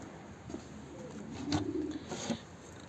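Homing pigeons let out of their loft coo in soft, low repeated phrases close by. Their calls come over a steady background hiss, and there is a brief louder rustle near the end.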